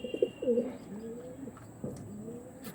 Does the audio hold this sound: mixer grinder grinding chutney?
no